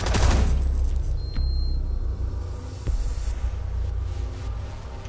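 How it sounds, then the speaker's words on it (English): Gunfire in the video game Rainbow Six Siege, a loud opening burst followed by a few sharp, more distant shots and low rumbling amid game ambience. "where is that fucking gunfire coming from?"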